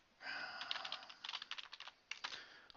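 Close computer keyboard typing, a fast irregular flurry of soft key clicks in two short bursts, fairly quiet with no talking.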